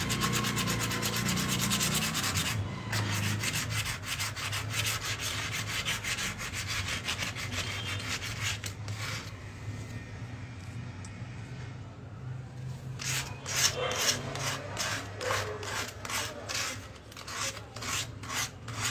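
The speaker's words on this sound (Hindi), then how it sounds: "सिर्फ ये जो थोड़ा मोटा मोटा वर्क है उसी की हम घिसाई करेंगे।" Sanding of thick raised relief work on a Ganesha wall mural, a close continuous rasping rub with quick back-and-forth strokes that speed up toward the end, with no talk.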